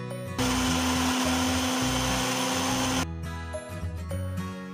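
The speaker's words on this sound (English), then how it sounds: "I'm going to blend this in the mixer jar for a few" A countertop blender whirs loudly and steadily in its mixer jar, churning a thick chocolate ice cream mixture sweetened with honey, then cuts off after about three seconds and leaves a quieter rattling hum.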